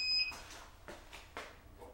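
A short electronic beep from a powder dispenser sounds at the very start, followed by quiet scraping and shuffling handling noises while reloading ammunition.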